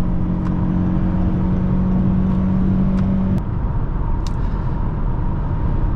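A 2024 Toyota Camry Hybrid SE Nightshade accelerates hard: a steady, loud engine and road drone carries a held tone that drops off partway through, then broadband cabin noise continues without pause.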